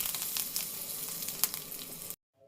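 Cumin, mustard seeds, turmeric and curry leaves crackle and sizzle in hot oil, a busy hiss peppered with sharp pops, cut off abruptly into near silence near the end.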